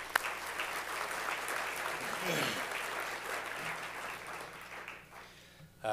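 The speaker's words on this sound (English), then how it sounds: "I want to give a round of applause for that." An audience at a university hall of fame event claps for the national champion USI baseball team, a sustained moderate applause that swells briefly midway, with a voice speaking over it near the end.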